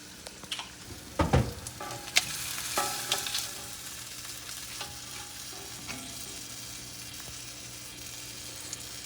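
Meat and sausages sizzling on an indoor grill: a steady, fairly quiet fry with a few louder clatters and pops near the start, then an even hiss with no talk.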